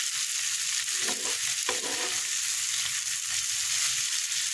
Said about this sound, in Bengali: এইভাবে উল্টিয়ে পাল্টিয়ে একটু রসটা একটু শুকিয়ে নিলেই খেতে ভালো লাগবে